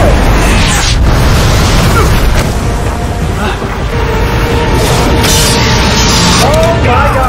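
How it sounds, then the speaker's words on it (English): Explosions in the film Batman Begins, a loud dense stretch of booms and bursts with sharp hits around the one- and five-second marks and a roaring rumble throughout. "So many damn explosions."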